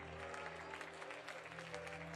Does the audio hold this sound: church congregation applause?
yes